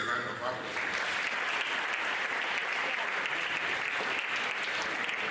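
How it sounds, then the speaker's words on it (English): An audience at a Nigerian university gathering gives the university a round of applause, steady dense clapping throughout, with talking mixed in under it. "I think we should give the university a round of applause."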